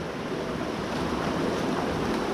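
A river flows through a dark cave in Gold River, British Columbia, giving a loud, steady rushing roar like surf, close to the microphone, with no talking.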